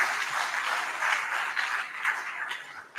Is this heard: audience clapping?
yes